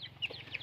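A fighting cock gives a few short, soft clucks in a rural yard, quiet and brief with faint background.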